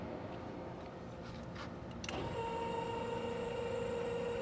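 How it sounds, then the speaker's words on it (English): The factory electric bed lift on a Polaris Ranger Crew XD 1500 Northstar Edition starts partway through, its motor settling into a steady, close whine over the background. "Comes from the factory with a electric bed lift."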